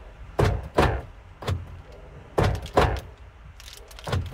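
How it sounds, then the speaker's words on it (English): Driver's door of a 2005 Scion xB being worked, giving a series of loud, close thunks and latch clacks in uneven pairs, with no talking. "I'm trying to open the door."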